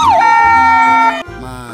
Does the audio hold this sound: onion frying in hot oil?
no